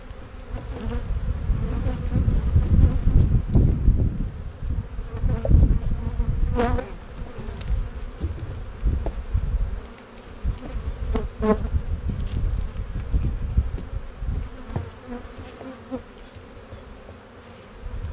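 Honey bees buzz in and around an opened apiary hive while a beekeeper adds a second box, a dense, continuous drone that swells and dips with brief sharper passes of individual bees near the listener.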